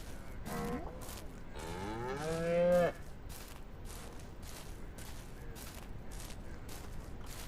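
Milk cows in the Ranch Sim video game mooing, two drawn-out lowing calls close by, the second louder and rising, followed by a quieter stretch of repeated sharp clicks or bangs.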